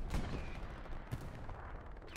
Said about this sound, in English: The artillery is still absolutely shredding.